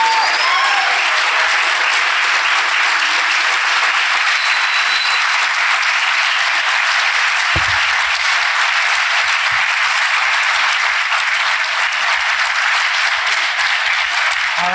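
An audience at a Salem mayoral candidate forum gives the candidates a steady, even round of applause that stays loud and unbroken throughout.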